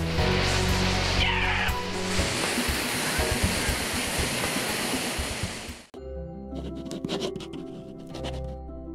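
Water rushes continuously down a natural rock water slide in a forest, a dense loud wash for several seconds before cutting abruptly to quieter, intermittent splashing.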